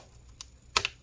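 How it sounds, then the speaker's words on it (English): A keyboard being pushed out of a Lenovo Legion 5 15IMH05 laptop during disassembly gives a few sharp, close plastic clicks, one light tap followed by a louder double click, with no talking. "So we're gonna just kind of push that keyboard through."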